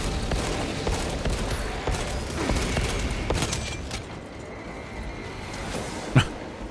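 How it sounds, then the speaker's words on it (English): Orbital guns firing in Warhammer 40,000: Space Marine 2 produce a rapid series of crackling impacts and distant booms amid dense battle noise, thinning out toward the end with one sharp louder hit near the close. "The orbital guns."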